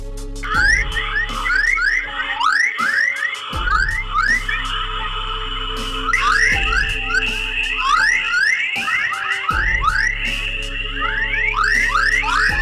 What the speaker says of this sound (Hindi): यह हमारी पृथ्वी की आवाज है, जो सुनने में कुछ कुछ सीटी जैसी सुनाई देती है